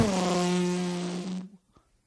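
A comedian's voice imitates a drag racing car engine: a loud, sustained buzzing rasp with a steady low pitch that holds for about a second and a half, then cuts off, followed by a few faint sputters.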